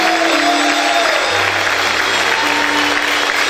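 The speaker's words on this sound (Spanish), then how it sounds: "¿Cuántos pueden aplaudir más fuerte al Señor?" Loud, sustained clapping from a congregation in a church, a thick unbroken roar of hands with held keyboard-like notes sounding beneath it.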